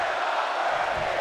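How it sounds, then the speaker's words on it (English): Wrestling crowd at an SCW Showdown event in the Bronx chanting in unison, a steady dense roar of many voices filling the arena, heard alone for a brief moment. "The crowd is chanting"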